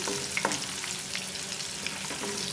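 Chopped onions sizzle steadily in hot oil for a chicken sherva, a dense crackling hiss broken by a few brief stirring scrapes, close and continuous with no voices.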